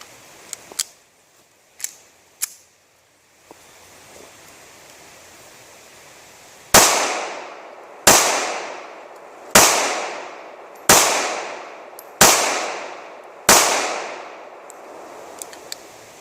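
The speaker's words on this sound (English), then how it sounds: "Alright, now for an accuracy test with the LCP-II. Again, I'm firing Federal RTP Range Target Practice 95 grain full metal jacket." A Ruger LCP II pistol firing Federal 95 grain full metal jacket range rounds, six loud sharp reports spaced roughly a second and a half apart after a few lighter metallic clicks, each shot ringing briefly.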